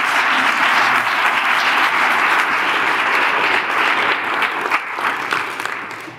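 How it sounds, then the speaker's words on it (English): A large crowd at the American Cotton Shippers Association's 100th anniversary celebration claps in sustained, loud applause, an even roar of many hands that thins slightly toward the end with a few louder individual claps. "let's give a round of applause for 100 successful years of the American Cotton Shippers Association"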